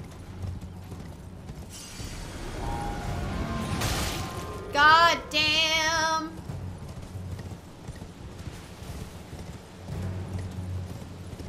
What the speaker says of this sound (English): Yeah, because your horse can run over top of those.